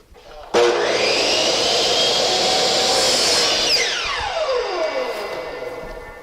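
A miter saw cuts a clamped 1x12 board: the motor whines up sharply, holds a loud, steady cutting roar for about three seconds, then winds down with a falling whine.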